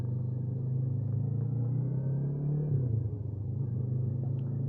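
A Yamaha MT-03 motorcycle ridden on an icy road, its engine holding a steady low drone close by before the note shifts and eases as the throttle changes.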